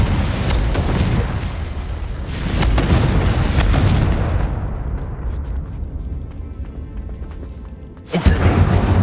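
A Confringo explosive spell blast in the video game Hogwarts Legacy: a loud, rumbling boom that fades over several seconds, then a second sharp burst near the end.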